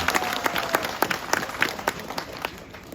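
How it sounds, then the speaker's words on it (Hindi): Audience at a silver jubilee celebration gives loud applause, a run of sharp, fairly even claps that fades slightly toward the end, with no voices over it. "इनके लिए आप लोग जोरदार तालियां दीजिए"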